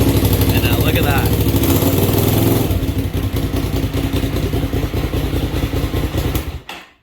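Motorcycle engine running steadily with a loud, rhythmic mid-frequency chug, rough and revving during the first seconds before settling into an even idle, then cutting off near the end.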